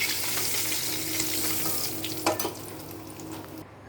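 Nigella seeds crackling in hot mustard-oil-style frying oil after fish was fried, a dense close sizzle steady throughout, with one brief stir clatter near the end.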